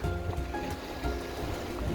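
Rough sea waves wash and churn along the Wellington waterfront, a steady broadband surf roar that stays loud and close throughout with no talking.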